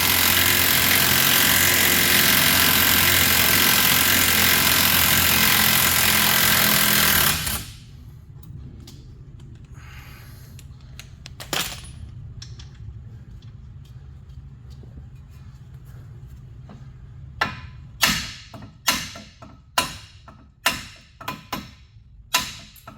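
Sharp metallic hammer strikes on the steering knuckle of a 2004 Chevy Monte Carlo to free the outer tie rod, a cluster of loud close blows near the end after a long stretch of steady machine whine that cuts off.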